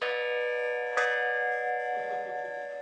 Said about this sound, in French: Comme ce gong, vestige de l'époque coloniale.